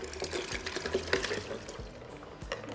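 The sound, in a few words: pouring ice cold water into horchata pitcher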